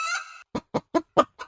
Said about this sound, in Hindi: जो कालू कौवे के पास मुर्गा था वह चिल्लाने लगा।